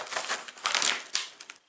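A Mountain House scrambled eggs with bacon food pouch is torn open at its notch, a short burst of crinkly plastic tearing and rustling lasting under two seconds, close and alone.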